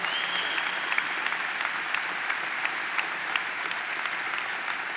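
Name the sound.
audience applause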